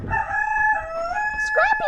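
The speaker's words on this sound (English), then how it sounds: "So that's Scrappy that's adoptable. my rooster" A rooster crows nearby in one loud, drawn-out cock-a-doodle-doo that rises at the end, with faint background rustling.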